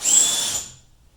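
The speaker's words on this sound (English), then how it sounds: "Let me grab the drill. It's a lot quicker." A power drill removing screws from a 1965 Thunderbird convertible during restoration, one short loud whir that runs down and fades out within about a second, with no talk.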